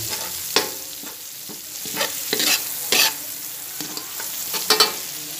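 Garlic frying in a pan sizzles softly near at hand while a utensil stirs and scrapes with scattered clicks, and no voices are heard.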